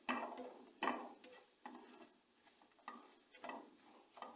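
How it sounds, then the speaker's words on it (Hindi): Cornflour being whisked into a bowl of beaten egg for a butter garlic omelette, giving a series of quick, close scraping and clinking stirring strokes in irregular bursts, with no talk over them. "इसको भी मैं ऐसे मिक्स कर लूँगी इसके अंदर अच्छी तरह।"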